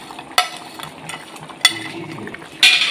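Chilli beef, with fried beef pieces just added to the sauce, stirred in a pan. A spoon scrapes and clinks against the pan in a few sharp strikes over a soft background sizzle.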